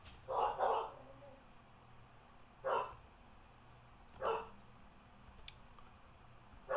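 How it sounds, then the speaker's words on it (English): A few faint, distant dog barks come in sparse single bursts, separated by long quiet gaps over low room hiss. "Oh, the dogs. Yeah, I'm sure you can hear them just fine."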